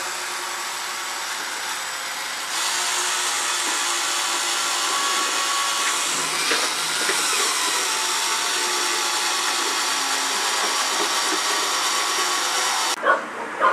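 A drill runs at low speed with high torque while boring a hole, giving a sustained grinding whine that starts quieter, steps up after a couple of seconds and holds steadily before a brief stop and restart at the end.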